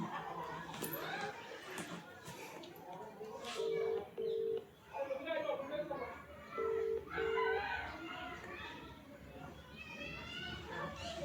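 A phone is dialed amid a busy household, with two pairs of short keypad tones sounding under ongoing chatter, children's voices and laughter.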